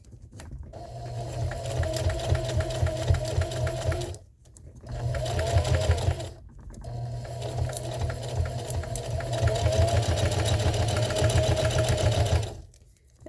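A sewing machine stitches straight across a fabric jar gripper from corner to corner in long, steady, loud humming runs. Two brief pauses break the runs before the stitching starts again.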